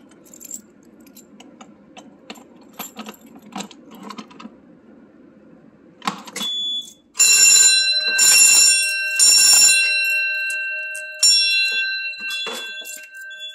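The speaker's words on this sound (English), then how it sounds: "So you can see it's an alarm." An EST QuickStart QSC/QS1 fire alarm system under test sounds a fire alarm bell in loud, ringing bursts with sustained metallic tones after scattered clicks and rattling, close and harsh.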